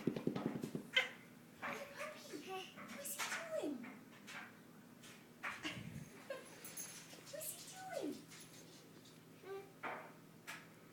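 Puppies whimpering with short, rising whines at intervals, mixed with soft rustling and faint background noise.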